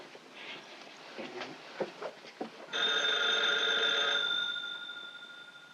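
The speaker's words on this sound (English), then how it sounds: "Oh, your phone's ringing." A telephone bell in a 1943 film rings steadily for several seconds, loud and close, after a few faint knocks and rustles.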